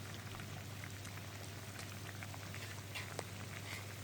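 Crab pieces simmer in a Malaysian-style curry with a constant bubbling, pattering hiss. It stays close and steady, with a faint low hum underneath and no talking.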